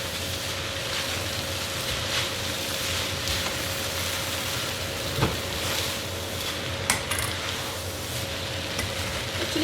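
Cooked vermicelli noodles are tossed with sauce in a hot pan, giving a steady sizzle and faint stirring scrapes, with a few light clinks of a utensil.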